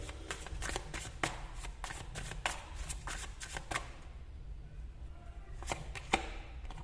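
Tarot cards riffled and shuffled close up in a quick series of crisp flutters and taps, then a pause and a few more snaps, quiet and with no talk.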